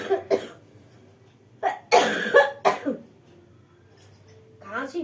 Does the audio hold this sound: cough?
yes